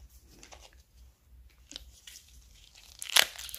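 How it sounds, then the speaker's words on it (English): A gift package being ripped open: soft rustling and crinkling of wrapping, then one sharp, loud tearing rip near the end, heard up close with no talking. "Can you help me rip this open?"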